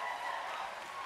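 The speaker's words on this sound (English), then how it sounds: "Let's give another round of applause to Warm Springs." Audience applause at a Confederated Tribes of Warm Springs protocol event, honoring Warm Springs performers after a song; steady dense clapping fills the short stretch without pause, moderately loud and slightly distant.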